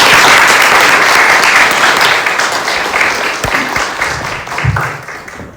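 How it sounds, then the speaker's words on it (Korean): A church congregation claps for a guest giving testimony, loud and close, a full sustained burst of applause that gradually thins toward the end. "박수 한번 해주시죠."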